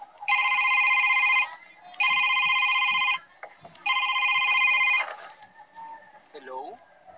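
An old-fashioned telephone rings in three long repeated bursts with gaps between them, loud and close, followed by a brief clatter and a faint tone.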